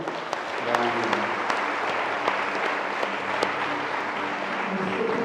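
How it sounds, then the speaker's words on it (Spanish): Audience applause at a patronal feast for the Virgin, with a mariachi band present: steady broadband clapping from a crowd, fairly distant, with faint voices and tones underneath throughout. "un aplauso para vos en primer lugar"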